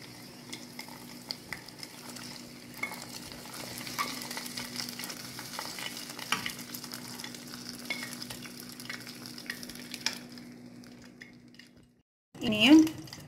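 Fried shallots, cashews and raisins poured sizzling from a pan into tharikanji, a soft steady frying hiss with light stirring scrapes that fades out, followed by a brief loud clatter of the pan.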